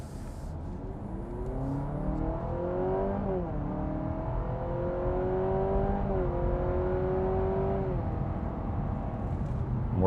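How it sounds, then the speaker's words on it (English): 2026 Honda Civic Sport Touring Hybrid accelerating hard in sport mode, heard from inside the cabin: a steady engine drone rising in pitch through several smooth upshifts, under constant road noise. "When I make this turn here, when I accelerate, you are gonna hear a little difference in the sport mode."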